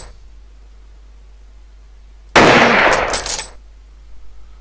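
A single loud burst of gunfire erupts from quiet in the FPS Creator Reloaded shooter game, a dense rattle lasting about a second that tails off into faint background hum.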